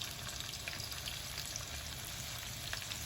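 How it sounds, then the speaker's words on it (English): Vegetables go into a noodle stir fry with salmon and sizzle in the hot pan, a fairly quiet, even crackle and hiss throughout, with no one speaking. "So I'm going to put my vegetables into the stir fry"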